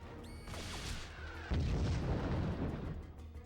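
Sniper rifle fire in the PS2 game 007: Everything or Nothing: a sharp, booming shot followed by a rolling, echoing tail, fairly faint overall.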